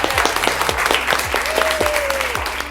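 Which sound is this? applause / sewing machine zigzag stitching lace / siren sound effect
applause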